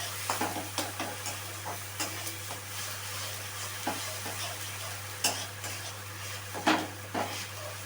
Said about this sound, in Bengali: পেঁয়াজটাকে দিয়ে একটুখানি কষিয়ে নিতে হবে